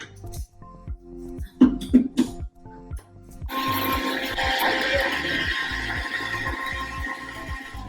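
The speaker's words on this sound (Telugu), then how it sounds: "అమ్మ మిక్సీ పడుతున్నా" An electric mixer grinder whirs into a loud, steady grind of spice masala for Rayalaseema mutton curry, preceded by a few knocks and clatters in a home kitchen.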